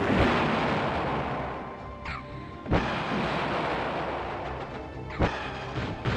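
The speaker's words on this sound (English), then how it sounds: "Pulse cannon." A pulse cannon firing in the PS2 game Battle Engine Aquila, heard as a few loud, sharp booming blasts spaced a couple of seconds apart over a constant rumbling battlefield din.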